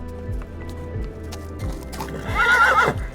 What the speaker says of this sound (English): the horse still did not take any chances and ran up to protect the owner from imminent danger